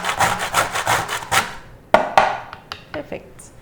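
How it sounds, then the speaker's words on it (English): Whole nutmeg rubbed against a hand grater in a Caribbean stew kitchen, a run of close, steady rasping strokes for a second and a half, then a few sharper scrapes and knocks. "So I'm going to grate."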